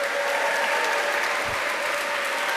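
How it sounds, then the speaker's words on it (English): A large audience claps wildly and continuously at an awards ceremony, a dense, steady roar of applause with no pauses, loud and close throughout. "Go wild with applause."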